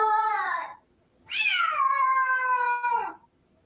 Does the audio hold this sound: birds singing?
no